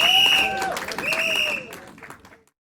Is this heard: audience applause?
yes